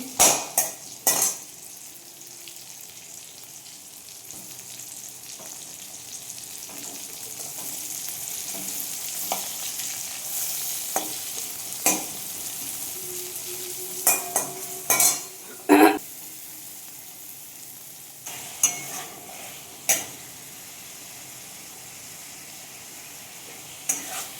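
Chopped garlic and onion fry in a little oil in a pot with tomato, a steady sizzle broken by sharp clanks and scrapes of a spoon stirring against metal.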